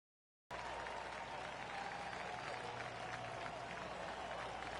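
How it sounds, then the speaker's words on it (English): Sustained applause from a large golf tournament gallery in the PGA 2K25 video game, a dense, steady wash of clapping that starts abruptly after a moment of silence and holds evenly at a moderate distance. "Sometimes you've just got to stand and applaud"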